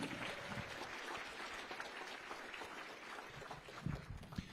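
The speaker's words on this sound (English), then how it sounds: "how about a nice round of applause for all of them" An audience at a state governor's awards ceremony claps in a continuous round of applause, fairly faint and distant, with no talking over it.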